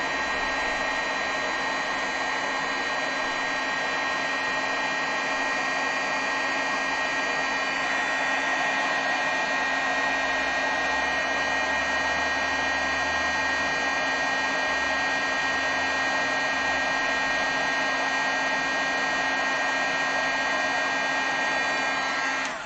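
A hair dryer blows steadily and loudly for the whole stretch, drying pieces of colored craft paper cut for layered poppy flowers, with an even, unbroken whir.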